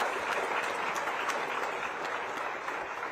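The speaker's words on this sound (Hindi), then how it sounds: "छत्तीसगढ़ के सभी युवा तालियां बजाकर जोरदार स्वागत करें, अभिनंदन करें" Dense, continuous applause from a large audience, loud and steady throughout.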